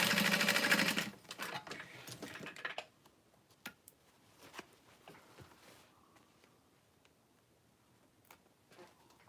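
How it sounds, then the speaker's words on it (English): A sewing machine basting along an open side of fabric: a close, loud burst of rapid stitching for about a second, then a quieter run that fades into scattered clicks and handling noises. "now I'm gonna baste it along the other open side"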